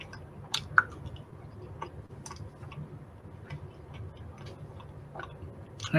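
Someone chews a chewy chili-soaked cherry close to the mic, giving soft wet mastication clicks and squishes spread over several seconds, with a louder burst near the end.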